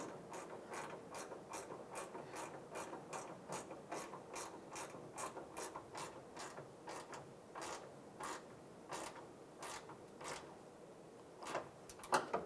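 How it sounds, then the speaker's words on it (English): A 10mm ratchet wrench snugs down a bumper bolt on a 2007-2013 Chevrolet Silverado, giving a steady run of quick, crisp ratcheting clicks up close that continue without pause for many seconds. "And take the 10mm ratchet wrench"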